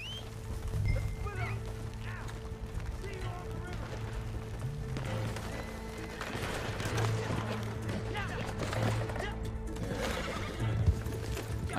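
A horse in the video game Red Dead Online neighs and whinnies while hooves clip-clop steadily, with game ambience and someone talking over it.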